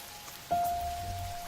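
Quiet rain falls in an even, soft hiss, with a faint steady tone entering midway and a low rumble underneath, and no voices.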